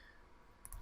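A computer mouse gives two quick, faint clicks near the end of an otherwise quiet moment.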